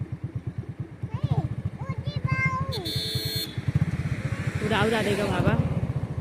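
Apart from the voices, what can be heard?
motorcycle engine running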